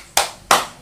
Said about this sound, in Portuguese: Bata palmas para o meu soluço passar.